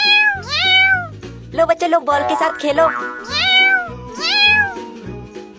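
Kittens in a cartoon give several high, drawn-out meows, some overlapping in pairs, loud and close, with a voice speaking between the cries.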